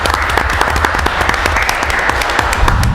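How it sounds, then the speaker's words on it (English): Loud, close applause at a village board meeting honors a police officer, many hands clapping in a dense continuous wash with distinct individual claps standing out. "I want to give this man a round of applause right now"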